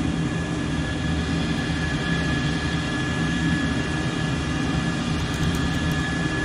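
An F-14 Tomcat jet engine in a flight simulator game, flying without afterburner, gives a steady, loud, unbroken roar with a deep rumble and a high whine throughout.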